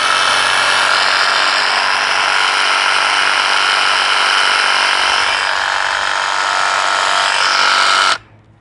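A Graco TrueCoat 360 DS paint sprayer runs in prime mode, a loud, steady high-pitched electric whine and buzz that holds for about eight seconds and then cuts off abruptly.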